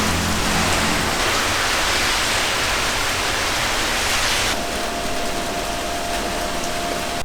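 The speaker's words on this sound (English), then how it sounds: "And then all the rain came." Heavy rain pouring down in a steady, dense hiss that stays loud throughout, with no voices, easing slightly partway through.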